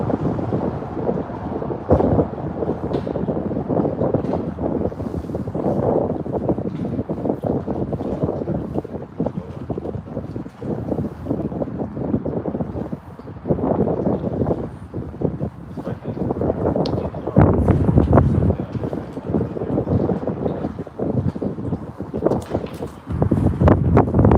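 Strong gusting wind roars and buffets the microphone outdoors on the water at night while fishing for crappie, a continuous heavy rumble that swells louder in the later gusts, with no talking.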